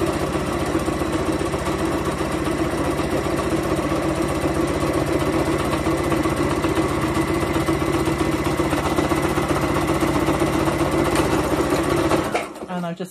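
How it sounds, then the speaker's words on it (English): A sewing machine runs a zigzag back stitch on fabric for a cushion cover, a continuous fast whirring hum held steady for about twelve seconds before stopping abruptly near the end. "Just done a zigzag back stitch."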